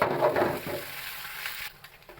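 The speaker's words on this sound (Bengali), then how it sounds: "চিংড়ি মাছটাও তেলের সাথে ভাজা হয়ে গেছে" Prawns and onion fry in oil in a pan, giving a brief close sizzle with stirring sounds that fades toward the end.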